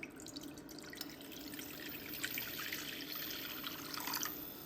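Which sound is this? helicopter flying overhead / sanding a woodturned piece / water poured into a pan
water poured into a pan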